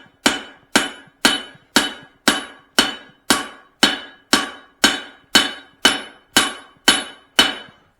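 A hammer forges a Swedish-style cross peen on an anvil, ringing in a steady rhythm of about fourteen sharp, loud metallic blows, each with a short ring-out and no talk.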